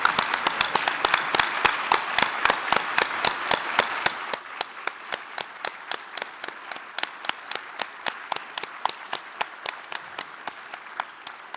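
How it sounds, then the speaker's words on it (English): Audience applause at an opening ceremony: a room of people clap in steady, fairly even beats, strong at first and then thinning to quieter, sparser claps toward the end. "And we can give them a big applause."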